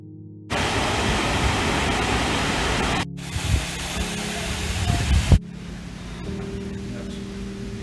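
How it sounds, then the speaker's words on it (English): A waterfall in Dogwood Canyon, Missouri, heard from behind the falling water as a steady broadband roar, loud and close, with brief shifts in level as the position changes and some faint background sounds. "we are behind a waterfall"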